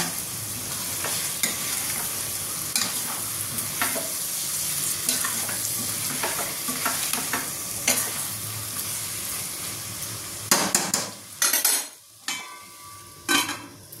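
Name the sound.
stirring chicken curry with spice powder in a pan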